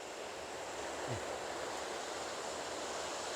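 Water flows steadily at a rocky stream spot that pours like a small waterfall, giving a constant broadband rush close by with no voices.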